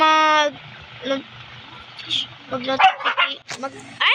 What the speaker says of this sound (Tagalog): nag-away pa nga itong mga aso ko